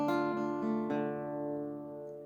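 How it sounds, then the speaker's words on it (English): The notes of an open minor chord are plucked one at a time on a guitar, each string ringing out clearly and sustaining as the next is picked, then decaying softly, with no talking. "individually, these will sound like this when plucked."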